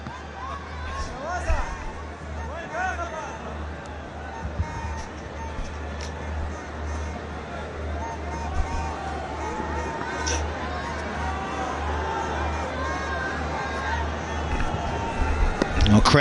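A cricket stadium crowd at a PSL match between Islamabad and Quetta murmurs and hums expectantly, a broad, steady babble of distant voices with occasional louder swells, heard under a commentator talking throughout.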